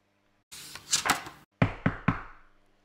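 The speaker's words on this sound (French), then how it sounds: "Azuro et Jippy entendent de bruyants coups frapper à la porte de la caserne" Loud knocks on the door of a fire station in a Christmas children's story, an irregular cluster of raps, a short pause, then three heavy spaced blows that ring out and fade.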